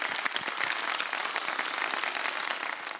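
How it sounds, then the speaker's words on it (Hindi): Studio audience applauding children who recite the Quran during a kids' segment of an iftar show, a steady dense patter of many hands clapping throughout, moderately loud with no voices over it. "ऐसे सारे बच्चों के लिए बहुत सारी तालियां बजा दें भाई जो कुरान पढ़ते हैं"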